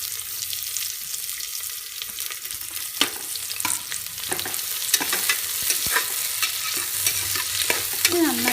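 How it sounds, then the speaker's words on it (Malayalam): Sliced onions sauté in hot sunflower oil for kabsa rice, a steady close sizzle broken by repeated scraping strokes of a spoon stirring the pan, with no talking. "ഓയിൽ ജസ്റ്റ് ഒന്ന് ചൂടായി വരുമ്പോൾ നമ്മൾ എടുത്ത് വെച്ചിരിക്കുന്ന സവാള ഇതിനകത്തേക്ക് ഇട്ട് കൊടുത്ത് വഴറ്റിയെടുക്കാം."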